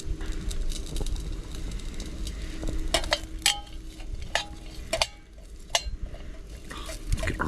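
Pre-cooked bacon heats in a pan on a field stove. The low, steady sizzle is broken by sharp metallic clinks and scrapes of utensils against cookware at close range.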